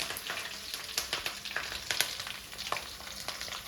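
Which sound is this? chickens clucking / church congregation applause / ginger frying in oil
ginger frying in oil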